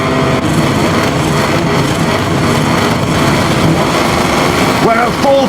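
Motorcycle engines roar at the start of the Spanish Grand Prix in a MotoGP career video game, with Alex Espargaro's Aprilia RSGP and KTM bikes on the grid, making a dense, loud, unbroken engine drone throughout.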